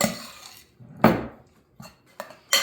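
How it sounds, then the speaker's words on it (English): Corn dip is stirred in a bowl with a utensil, making a few separate scraping clinks against the dish. The strokes are irregular and close, with nothing else heard. "now we're just going to go ahead and stir this all together."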